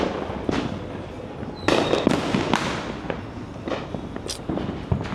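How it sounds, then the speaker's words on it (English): Fireworks and firecrackers going off outdoors at some distance, a string of irregular cracks and booms over a continuous crackling background. "There's just fireworks going off in the background."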